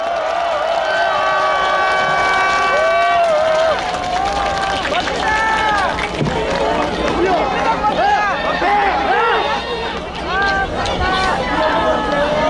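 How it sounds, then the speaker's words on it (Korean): A dense crowd applauds at an outdoor presidential campaign rally at Hansung University Station fountain plaza, a loud, steady wash of clapping and hubbub with voices calling out over it. "큰 박수 부탁드리겠습니다"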